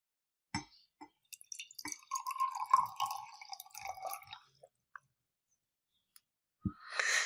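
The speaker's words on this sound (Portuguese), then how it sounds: "Então, vou pegar aqui a água, colocar aqui neste copo aqui." Water poured into a drinking glass for a science class demonstration on substances and mixtures: a brief trickle framed by quiet clicks and drips, close and soft, with no talk.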